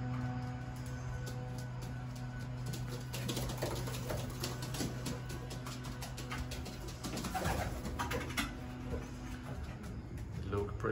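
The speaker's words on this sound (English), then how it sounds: "These are the birds I'm going to ship tonight for the QCM Futurity Race." Racing pigeons being readied for shipping to a 200-mile futurity race coo softly and steadily in a loft, with wing shuffles and light patter throughout and a person's voice murmuring in the background.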